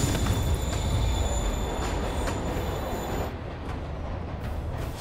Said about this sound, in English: Train's moving. Lee's getting away.